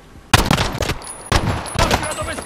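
Sharp bursts of gunfire from the shooter game Warzone, three loud volleys with short gaps between them, close and punchy, and faint game noise underneath.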